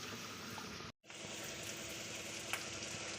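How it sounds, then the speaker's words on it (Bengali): Water poured into a hot pan of frying spice paste for a Bengali singi fish curry, giving a steady loud sizzle and bubbling throughout, with a brief silent break near the start. "এখন দিয়ে দিচ্ছি পরিমাণ মতো জল"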